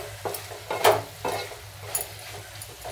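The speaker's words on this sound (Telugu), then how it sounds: "ఒకసారి బాగా కలుపుకున్నాము" Raw papaya fry hisses in a pan while a spoon stirs it, giving a few sharp scraping strokes over a low, constant sizzle.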